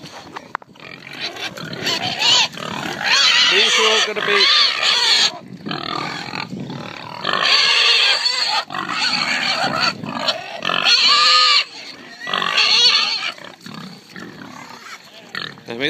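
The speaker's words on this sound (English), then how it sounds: "These are mummy piggies." Adult sow pigs on a farm grunt and squeal in loud, overlapping bursts close by, nearly continuous, with a brief spoken remark partway through.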